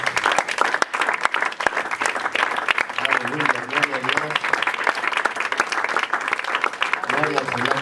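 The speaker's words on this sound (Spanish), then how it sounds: "Dele fuerte el aplauso al Señor." Congregation applause at a Spanish-language church service, steady clapping with sharp individual claps running throughout, and voices calling out over it in places.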